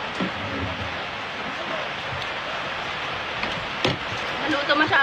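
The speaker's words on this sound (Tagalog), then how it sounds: "grabe lakas ng ulan sa amin." Heavy rain pouring down steadily as a dense, continuous hiss with a few louder splashes, while people talk quietly in the background.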